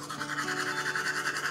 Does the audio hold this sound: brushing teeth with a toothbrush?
yes